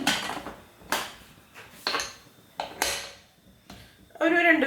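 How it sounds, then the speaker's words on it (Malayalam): Two potatoes are placed in a pressure cooker and water is poured in, heard as a series of sharp metallic clanks and knocks against the pot, ending with a brief splashing pour. "ഇത് നമുക്ക് ഈ കുക്കറിലിട്ടിട്ട് കുറച്ച് വെള്ളം ഒഴിച്ചിട്ടൊന്ന് വേവിച്ചെടുക്കാം"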